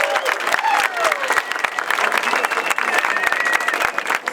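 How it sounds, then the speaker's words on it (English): Dense, steady applause from a large audience at an endurance race briefing for the Western States run, with scattered cheers mixed into the clapping, loud and continuous throughout. "please applaud your friends, your crews, your pacers"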